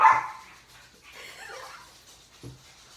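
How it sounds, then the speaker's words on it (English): A dog barks sharply once, then softer yips and whimpers follow, with a final short bark. "Sorry about that, it's the dogs."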